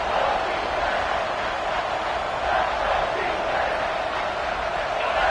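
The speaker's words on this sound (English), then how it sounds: "This crowd knows they have to bring it in big moments" A football stadium crowd sends up a sustained, roaring cheer during a big third-down moment, a dense, steady wall of noise from start to finish.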